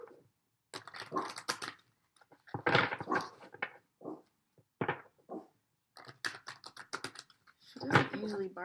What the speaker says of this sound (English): She doesn't usually bark at people.